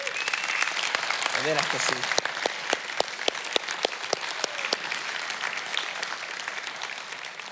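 A church congregation at a conference applauds its volunteers in a long, lively round of clapping with crisp individual claps, while someone speaks over it.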